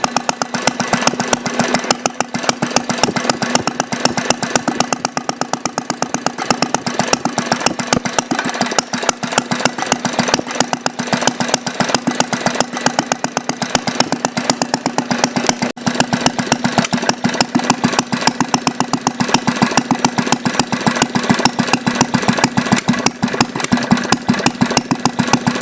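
A small Briggs & Stratton engine with a glass cylinder head runs steadily at a fast, even idle, its rapid firing pulses continuous and close by with no talking.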